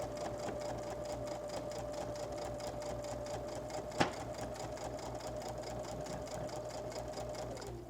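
A sewing machine stitches a quilted holiday placemat with a steady, fast mechanical whir and even rhythmic clatter, close and continuous throughout, with one brief sharp knock midway.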